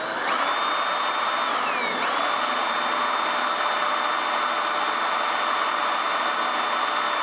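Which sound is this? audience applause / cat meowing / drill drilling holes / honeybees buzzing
drill drilling holes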